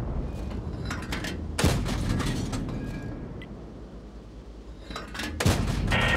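Tank cannon fire in the World of Tanks video game: two heavy booming shots about four seconds apart ring out over steady, rumbling battle noise, with no talking.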